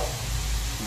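Paneer frying in a pan with chili powder, salt and turmeric, a short burst of steady sizzling close by.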